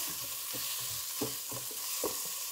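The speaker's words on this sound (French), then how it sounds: "Je mélange le tout" Butternut squash and chicken meatballs with chopped chives stirred in a pan, a soft sizzle under a few rhythmic scraping strokes of a spoon, close and without talk.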